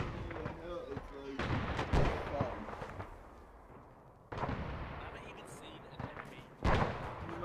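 Incoming artillery in a military video game lands as several heavy, booming blasts spaced seconds apart, each followed by a rumbling tail. Players talk over the explosions.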